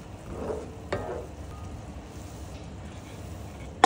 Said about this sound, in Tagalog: Stir to combine and bring to a boil.